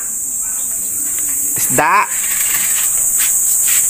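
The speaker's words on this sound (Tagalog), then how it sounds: "Bakit ang dami kuliglig?" Crickets chirp in a loud, constant high-pitched drone throughout, with a person briefly speaking over them midway.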